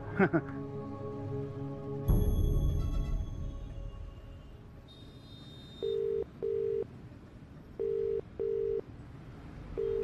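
A ringback tone repeats in short paired bursts after some clatter and a voice, going unanswered as the tones continue.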